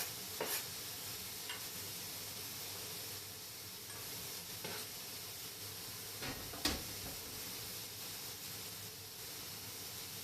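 Food sizzles steadily in a frying pan after being added, a soft continuous hiss with a few faint clicks and stirring scrapes, without talk.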